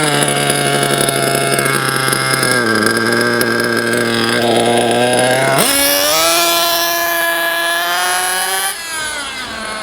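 A JQ Products THERTR engine on break-in, leaned out so it revs higher, its steady harmonic whine stepping up in pitch partway through and holding a louder, higher tone, loud and close with no talk.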